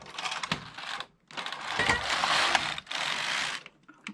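Passap E6000 knitting machine pushers and needles clatter and click in dense mechanical bursts, close and fairly loud, with a brief pause between runs of rattling.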